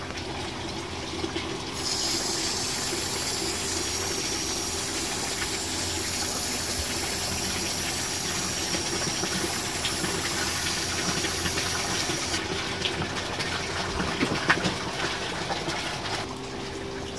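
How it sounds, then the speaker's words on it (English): Citrus leaf cuttings in a propagation setup being watered, a steady hissing spray runs continuously through the whole stretch under a low hum, with no talking. "now we are going to water our propagation."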